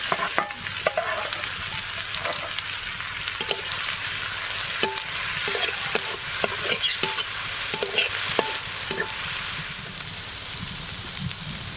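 Chopped onion sizzles in hot oil for potato kachori, close and continuous, while a spoon scrapes and knocks against the pan in an uneven rhythm of clacks throughout. No voices.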